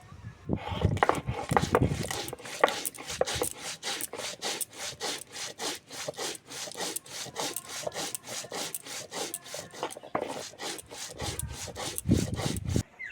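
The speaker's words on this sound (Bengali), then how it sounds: "জিরে চন্দনী আর গোলমরিচটা বেটে নেব" Cumin, chandani and black pepper ground into a paste on a stone grinding slab, heard as a fast, even run of close, rasping back-and-forth scrapes that carries on without a break and with no talk.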